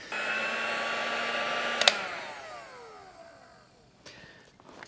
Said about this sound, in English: give yourself enough room to get in there with a heat gun to apply some indirect heat